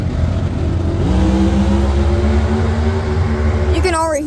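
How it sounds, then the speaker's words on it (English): Race cars at Cayuga Speedway rev in the distance with a steady, rising engine drone under a loud outdoor rumble, and a higher whine swells near the end while people talk nearby. "You can already hear the cars."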